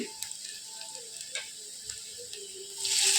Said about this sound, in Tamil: பீட்ரூட் பீட்ரூட் நல்லா பச்சை வாசனை போக வதங்கணும்.